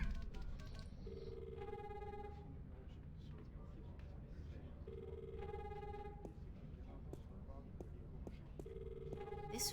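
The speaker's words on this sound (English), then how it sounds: "That's just my incoming call." A phone rings with an incoming call in The Longest Journey video game, three repeated electronic ring bursts at a steady interval beneath a low background hum and soft clicks.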